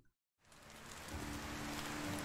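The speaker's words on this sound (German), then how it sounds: "Und es regnet. Zum ersten Mal regnet's." Steady rain hisses down in the Medieval Dynasty video game, starting suddenly after a brief silence and holding as a dense, even wash of falling drops, with no talk over it.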